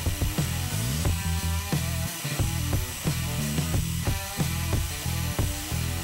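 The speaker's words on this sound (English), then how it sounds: "With this bit I have the X-Carve mill out all the details of the logo and the lettering." An X-Carve CNC router mills logo and lettering details into a plaque with a 1/32 inch bit, giving a steady whining motor hum broken by repeated rhythmic cutting pulses, close and continuous, with no talking.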